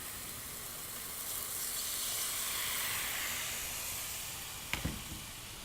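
Stock poured into a hot pan after sautéed chicken and reduced wine, hissing and sizzling steadily at close range, swelling in the middle, with a few brief clinks near the end.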